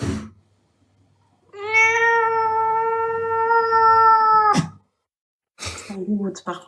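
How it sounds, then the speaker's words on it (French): A pet Birman cat lets out one long, drawn-out meow with a clear rising-then-steady tone, close and loud, framed by brief voices talking before and after. "Vous savez que j'ai un chat, moi? Je peux vous montrer mon chat?"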